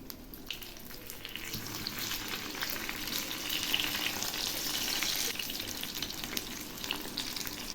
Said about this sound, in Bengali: এবার এক পাশ ভাজা হয়ে গেছে এখন আমি উল্টে দিচ্ছি